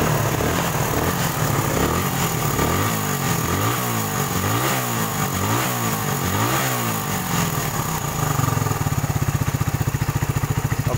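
A Suzuki Satria FU 150 motorcycle fitted with an aftermarket cylinder block and an opened air filter idles loud and close, a steady even putter with a slight wavering pulse and no talking.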